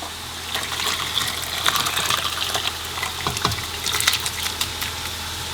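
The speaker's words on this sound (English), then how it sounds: "So take a sieve and just pour it all into there." Chicken broth poured through a sieve: a steady liquid gush and splash with trickling and clinking, lasting throughout and fairly close.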